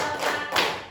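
An audience at a school teachers' training session claps in short bursts, two close, loud claps roughly half a second apart with no talking.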